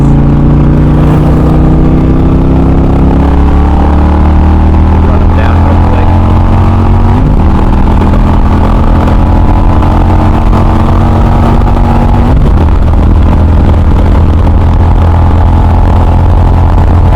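A motorcycle engine drones loudly and steadily up close as the bike accelerates past on a New Year's group ride, its pitch stepping up through a couple of gear changes under constant wind rush.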